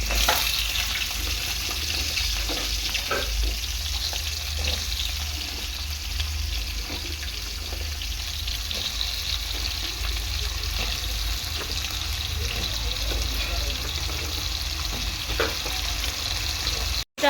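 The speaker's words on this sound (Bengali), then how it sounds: "আমি ভেজে নিচ্ছি এরকমভাবে দেখো একদম ফাঁকা তেলে আলুটাকে প্রথমে এরকম ভেজে নিতে হবে" Potato pieces deep frying in plenty of oil, a steady broad sizzle and bubbling hiss that stays close and even throughout, with a few faint clicks of stirring and no voices.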